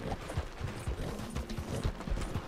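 A horse gallops in the western game Red Dead Online, steady rhythmic hoofbeats thudding close and clear throughout, with faint creaks underneath.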